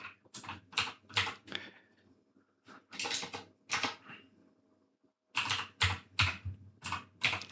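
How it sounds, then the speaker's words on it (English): Rapid bursts of clacking keystrokes on a computer keyboard with its RGB backlight switched off, typed in quick clusters with short pauses between, close and fairly loud with no talking. "now I can't see what the hell I'm typing because I'm an old man"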